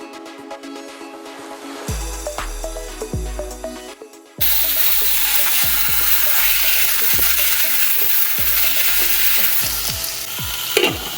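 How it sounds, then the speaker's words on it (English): Pork chop browning in olive oil in a pan, a loud sustained sizzle that swells suddenly partway through, with a rhythmic low thumping beneath it and no talking. "So browning it in the olive oil is going to add extra flavor to the bottom of it."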